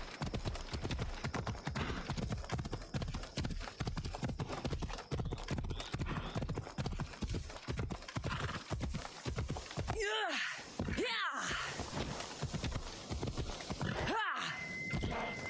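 Horse in Assassin's Creed Odyssey galloping with a steady rapid clip-clop of hooves throughout, a few whinnies near the end, and a voice talking now and then over the game audio.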